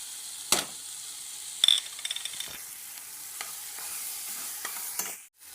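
Chopped garlic frying in a pan for Goan-style poha, a faint steady sizzle broken by a few sharp spatula scrapes and clinks against the pan, with no voices.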